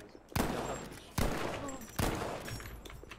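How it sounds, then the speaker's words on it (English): Three loud, separate gunshot blasts ring out in a video game at roughly even intervals, each followed by a decaying tail, close and punchy. "They're shooting me, man."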